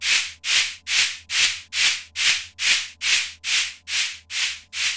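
A synth note shaped by a MIDI-triggered LFO pattern pulses in about eleven even, breathy swells, each rising quickly and fading gradually, in a steady rhythm with no voices.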